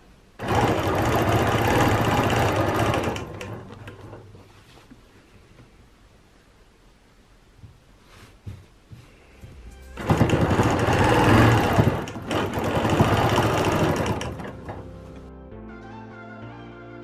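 A sewing machine quilts a half circle along circle rulers. Two long bursts of steady, loud high-speed stitching are separated by a quieter stretch of handling noise, with no voices.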